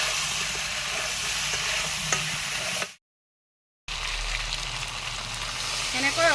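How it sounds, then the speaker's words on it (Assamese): Chili powder, cumin and coriander powder being stirred and fried in a pan for a chicken and taro flower dish, a loud sizzle with scraping stirs, broken by a second of silence before the frying resumes. "এইখিনি ভালকৈ লৰাই 10 মিনিটমান সময় মই খুব ধুনীয়াকৈ ভাজি ল'ম"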